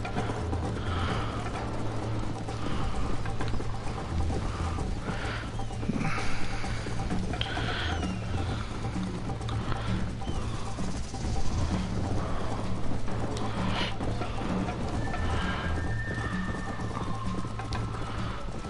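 Horse hooves clip-clopping steadily in the video game Red Dead Redemption, with occasional neighs over a constant low ambient hum, a rhythmic trot continuing throughout.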